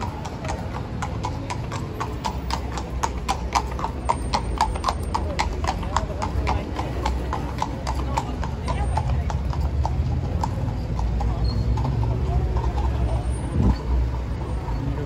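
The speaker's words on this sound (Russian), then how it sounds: "А, и тут еще одна лошадь." Horse hooves clip-clop steadily on a Moscow city street, a regular rhythm of sharp hard strikes running throughout over continuous traffic and crowd noise.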